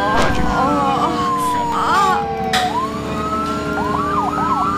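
Wailing ambulance siren in the Emergency 4 firefighting and rescue game, Northview South County map, sweeping up and down steadily and loudly over constant engine and traffic din, with someone talking over it.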